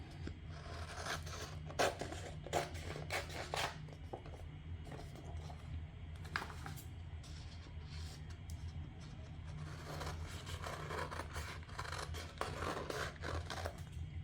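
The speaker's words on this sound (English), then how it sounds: "it's also an option to cut with scissors" Scissors snipping around a sheet of light-fabric inkjet transfer paper, giving repeated close, dry cutting and rustling sounds over a low steady background hum, with no talking.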